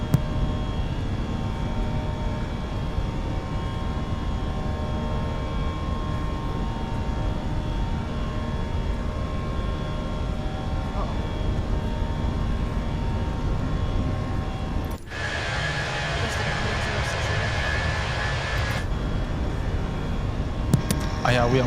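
Airbus A320 engines during takeoff and initial climb in Microsoft Flight Simulator 2020, a steady loud roar that holds throughout, with a brighter hissing layer briefly rising in the middle.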